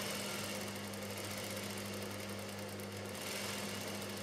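A sewing machine runs steadily while stitching piping onto a katori blouse, its motor a continuous low hum with rapid needle rattle throughout, close by and alone.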